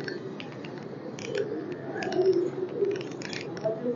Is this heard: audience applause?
no